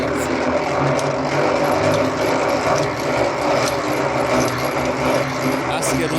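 Honey extraction machine whirring steadily with black cumin flower honey inside, a continuous mechanical rattling hum heard up close for the whole stretch.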